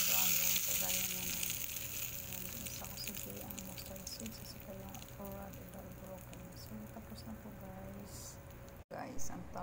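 Mustard seeds sizzle and crackle in hot oil for a South Indian green chutney served with idli, a steady close frying hiss with scattered pops and faint background talk.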